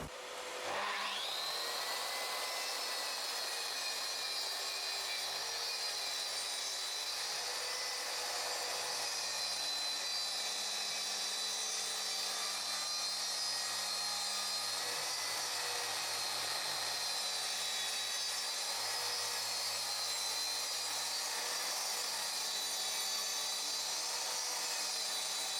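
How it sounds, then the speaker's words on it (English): Track saw cutting wood while a Parkside 20V shop vac extracts the dust, a steady loud whining roar that runs without a break throughout, with no talk. "And now to the last test, the track saw. This should generate a lot more debris than the sander"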